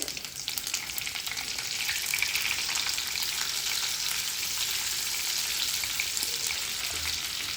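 Cumin seeds, dried red chillies and curry leaves sizzle in hot oil, giving a loud, dense, continuous crackle with no voices.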